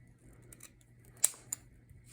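Scissors snip through a craft tombstone piece, with two quick, crisp cuts over a quiet background hum, close and isolated.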